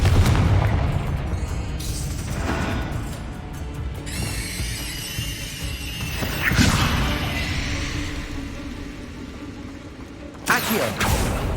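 A Confringo blasting spell in Hogwarts Legacy detonates with a loud booming burst, joined by creaking mechanical game effects and a second sharp blast near the end.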